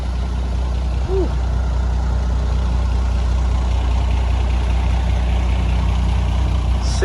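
A heavy-duty truck hauling a 6.7 Powerstroke project sits idling with a steady, loud low diesel rumble, joined by a brief air-brake-like squeal near the start.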